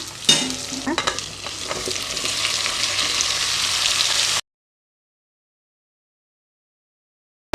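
Chopped vegetables stir into onions sautéing in hot oil for mutton dalcha, a steady close sizzle with clattering spoon strokes early on, ending abruptly into silence.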